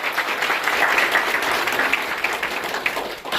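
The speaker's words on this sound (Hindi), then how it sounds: "जोरदार तालियों से स्वागत करिए" Audience at a two-day association convention in India applauds steadily to welcome a woman to the stage, a dense, even wash of clapping that holds for the whole stretch with no voices above it.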